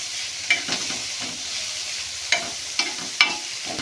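Chopped tomato with chillies fries in a pan with a steady sizzle, broken by a few sharp clinks and scrapes of stirring.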